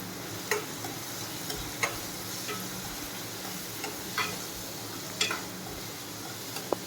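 A spoon stirs chili powder into onions cooking in a pan, with scattered light scrapes and clicks of utensil on metal over a soft, continuous background sizzle.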